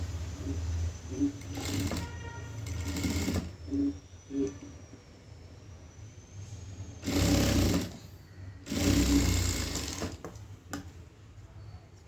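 A sewing machine stitching fabric hangings: several loud bursts of rapid mechanical whirring and needle clatter, separated by quieter pauses with faint handling noises, close up and without speech.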